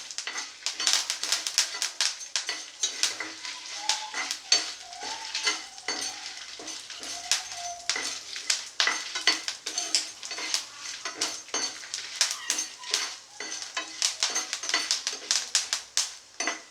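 A generous handful of curry leaves crackles and sizzles in a hot pan, with steady spoon scrapes and clicks against the metal throughout and no voices.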